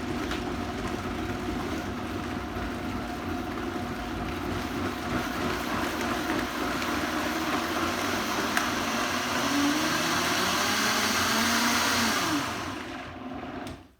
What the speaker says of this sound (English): Now put your blender on